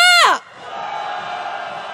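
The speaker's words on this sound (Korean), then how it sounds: "함성 시작." A crowd at a street protest march roars with sustained cheering and shouting after a single loud voice calls out briefly, the massed noise steady and dense for the rest of the moment.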